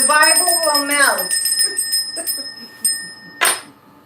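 A hand bell rung during a lively live stream, with bright sustained ringing tones at the start and a few later strikes, heard under and alongside talking voices.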